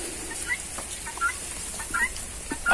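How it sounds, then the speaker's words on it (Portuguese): Chickens cluck softly while pecking at capiaçu grass in a backyard run, scattered quiet calls over a faint steady background hiss. "As galinhas estão comendo no capim-açu."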